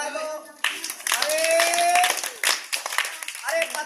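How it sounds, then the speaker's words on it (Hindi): Children clap in a short burst of scattered, moderately loud applause for a snake charmer, mixed with a voice talking over it. "तो लो बच्चों एक बार ताली बजा दो"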